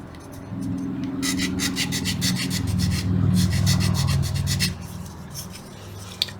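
Small wooden model ship parts for a Vanguard Models Brig Adder kit being sanded to remove cut marks, a steady close rubbing rasp in rhythmic strokes over a low motorized whir.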